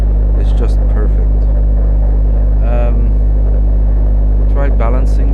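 A Yamaha Super Tenere 750 motorcycle with carburettors that won't balance idles close by at around 1100 rpm, a loud, deep, steady throb without stalling, while someone talks over it in short bursts.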